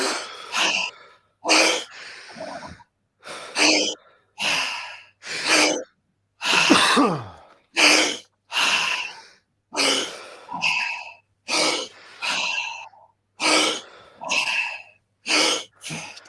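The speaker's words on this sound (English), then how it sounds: "Nice big deep breaths" Deep rhythmic breaths repeat steadily, each loud forceful inhale and exhale close up, around fifteen cycles in quick succession as in a guided breathing exercise.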